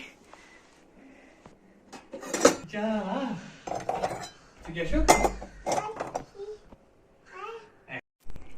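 Freshly washed dishes and cutlery are handled nearby in a village home, with metal utensils clinking and plates knocking together in scattered bursts while someone talks over them.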